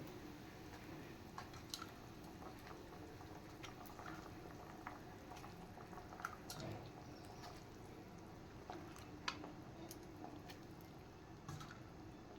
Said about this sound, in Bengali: ঝোল ফুটে গেছে এবার আমি বড়াগুলো ছেড়ে দেবো